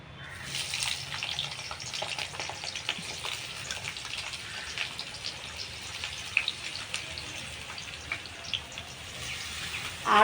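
Chopped onions, about 250 grams, fry in hot oil with a steady, dense crackle and hiss that holds at an even level for the whole stretch, with no voices.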